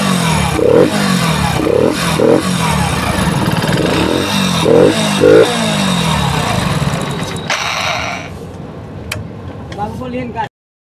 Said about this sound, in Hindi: आपको दिखा दे स्टार्ट करके बाइक को की को ऑन करेंगे।